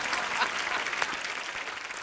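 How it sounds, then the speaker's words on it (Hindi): A studio audience claps loudly for girls on stage during a Hindi comedy talk show, the dense steady applause filling the whole stretch. "इन फिरंगी लड़कियों के लिए जोरदार तालियां"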